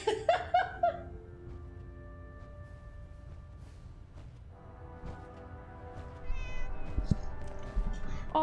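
A cat meows several times in quick succession at the start in a Fallout 4 gameplay setting, clear and close, followed by quieter game music and ambient sound with a few faint sounds later.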